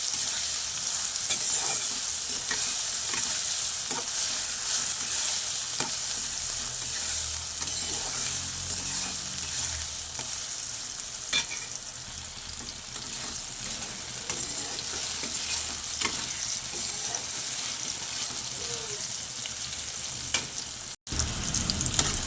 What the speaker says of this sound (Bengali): দিয়ে আমি ভালো করে বেগুনগুলোকে লাল লাল করে ভেজে নেবো।